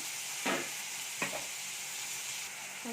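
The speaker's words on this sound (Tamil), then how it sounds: "தக்காளி சேர்த்து நல்லா வதக்கிக்கலாம்" Chopped tomatoes sauté in hot oil with onions and red chili powder for a tomato-onion gravy: a steady, loud sizzle with two brief spatula scrapes as the mixture is stirred.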